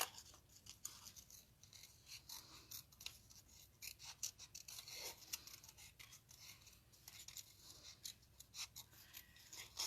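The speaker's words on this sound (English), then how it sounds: "Just go up and down with your scissors." Quiet, rapid snipping of scissors through paper, a rhythmic series of short crisp cuts with no voices.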